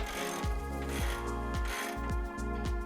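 A ratchet wrench clicks steadily in a repeating rhythm, roughly every half second, while loosening 19 mm track bar bolts on a 5th gen Toyota 4Runner.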